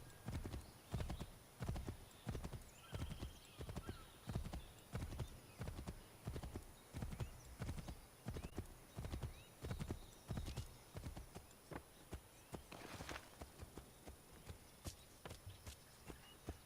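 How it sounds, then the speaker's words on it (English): A horse gallops in the Assassin's Creed video game, its hooves striking in a fast, steady, loud rhythm that continues throughout, with no talking. "me running at full speed is a horse at a gallop"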